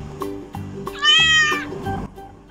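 A kitten gives a single loud, drawn-out meow in a children's animal lesson, set against soft rhythmic background music.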